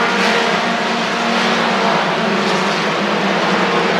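Race cars roar around the oval at Rockford Speedway during an August 1993 event, a dense, continuous engine drone with no break, loud and close.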